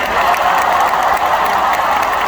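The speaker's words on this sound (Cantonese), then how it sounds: "大家俾啲掌聲，多謝我樂隊先。" Applause from a concert audience for the band at a live show in Hong Kong, a dense, steady wash of clapping from a large crowd with light cheering, loud and continuous throughout.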